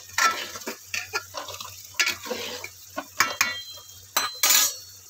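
Rajma cooking with masala in a pan sizzles softly while a spoon scrapes and clanks against the metal in irregular, close stirring strokes, with no talking.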